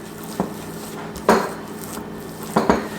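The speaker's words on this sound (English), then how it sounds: "So I'm just kind of folding it all together" A spoon scrapes and knocks against a bowl while peanut butter cup mixture with coconut oil is folded together, three distinct clinks spaced apart over a quiet background.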